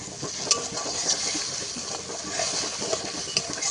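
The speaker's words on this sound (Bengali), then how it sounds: "এবার মশলাটাকে ভালো করে একটু কষিয়ে নেব।" A wet spice paste being stirred and sautéed in a pan for a raw hilsa curry, a soft steady sizzle with occasional clinks of a spoon against the metal.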